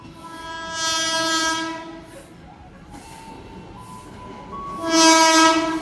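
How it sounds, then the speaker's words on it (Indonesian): A train horn sounds in two long blasts with a gap between them, loud and near, over the rumble of a passing coal freight train on an Indonesian railway line. "Bentar lagi kereta api Batubara akan segera melintas."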